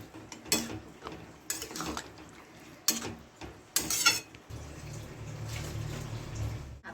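Masoor lentils are stirred into a pot of fish-head dal with a spoon scraping and clacking in several sharp strokes, then a softer, steady bubbling simmer, close by.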